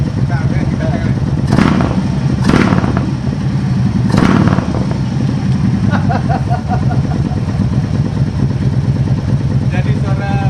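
A Harley-Davidson motorcycle's exhaust rumbles loudly up close, a deep pulsing idle punctuated by a few sharp rev blips, with someone talking over it.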